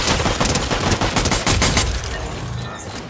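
Rapid gunfire from a weapon in the video game Fortnite, a dense, loud fusillade of shots that carries on throughout and eases off slightly near the end.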